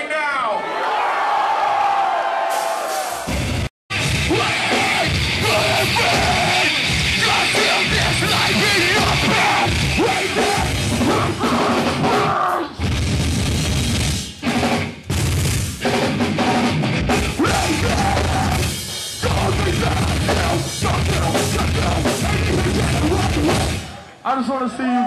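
A live-show crowd at a tap dance set in Pompano Beach screams, yells and cheers loudly and continuously, with thumps and whoops mixed into the roar.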